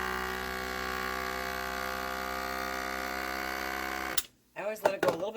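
A vacuum sealer runs steadily on jars in a kitchen, a loud continuous motor hum with a tone that holds for about four seconds before cutting off, followed by brief handling noises and a voice.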